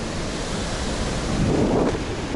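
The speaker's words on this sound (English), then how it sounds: "Got a babbling brook here." Running water pours over a weir on a babbling brook outdoors, a steady broadband rush heard close and alone, with no talk.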